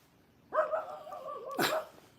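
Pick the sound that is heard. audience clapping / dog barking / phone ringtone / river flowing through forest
dog barking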